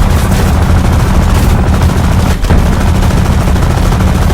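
Dense, continuous aircraft gunfire in the War Thunder video game, loud and sustained with rapid overlapping bursts and no pauses.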